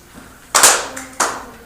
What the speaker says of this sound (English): So we clapped.